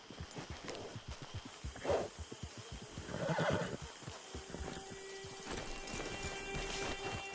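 A horse in the video game Red Dead Redemption 2 whinnies loudly twice while its hooves clip-clop steadily close by.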